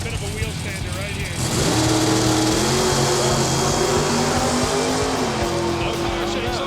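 A drag racing car launches hard off the line at a gameshow event, its engine exploding from a low idle into a loud, sustained roar that holds for several seconds, with a commentator talking over it.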